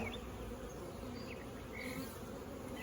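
Honeybees buzz at a backyard hive, a steady dense drone holding evenly throughout, with no talk.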